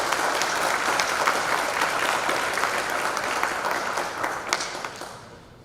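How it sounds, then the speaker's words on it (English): Audience applause at an awards ceremony, a dense steady round of clapping from a room of people that fades out toward the end, with no voices over it. "Join me in a round of applause as we celebrate Julie Heckman for this well-deserved honor."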